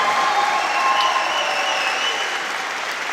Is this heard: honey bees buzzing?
no